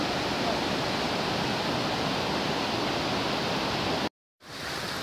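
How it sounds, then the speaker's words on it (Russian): Steady broad rush of a partly frozen waterfall in the Almarasan gorge near Almaty, high in the mountains, a constant close roar that cuts out abruptly near the end before fading back in. "Вот, оказывается, водопад."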